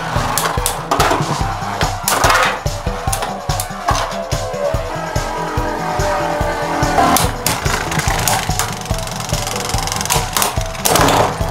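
Beyblade Burst spinning tops, including Rage Longinus, whirring in a stadium with repeated sharp clashing hits and scraping, loud and close throughout for over ten seconds.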